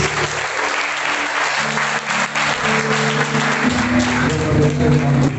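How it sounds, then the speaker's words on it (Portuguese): A church congregation applauds, sustained loud clapping with a low sung or sustained musical tone underneath that grows stronger toward the end. "Aplauda o Senhor mais uma vez."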